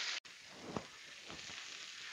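Pork neck steaks and fried potatoes sear in a pan with a steady, close sizzle, a brief clatter and a faint stir breaking the constant hiss.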